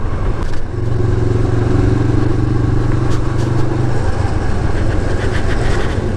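Steady engine drone of a motorcycle riding along a coastal road in southeast Bali, loud and close with wind rumble and a sustained low hum, no talking.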